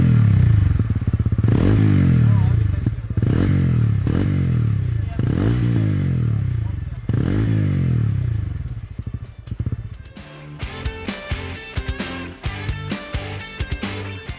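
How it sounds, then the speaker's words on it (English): A Ronin 225.9cc air- and oil-cooled single-cylinder motorcycle engine is revved in five or six close, loud blips with idle between them, then gives way to rhythmic, music-like sound for the last few seconds. "let's listen to what the Ronin sounds like"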